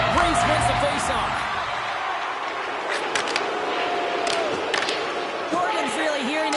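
A virtual home hockey crowd in NHL 26 jeers and roars, a broad continuous arena noise with rising shouts and scattered sharp knocks, mixed with voices talking over it.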